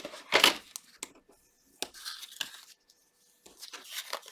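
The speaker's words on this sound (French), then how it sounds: "Et donc maintenant, je vais marquer tous mes plis." Paper is scored along fold lines for a pop-up album card, giving short scratchy swipes and crinkles in separate bursts with quiet gaps between them, close and fairly soft.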